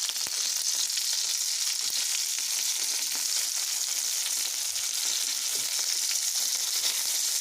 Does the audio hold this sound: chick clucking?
no